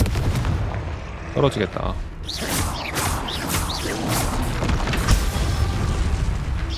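Spell blasts and explosive booms burst repeatedly in the wizarding action game Hogwarts Legacy, with whooshing casts and heavy impacts layered densely over sustained combat noise, while a voice speaks briefly.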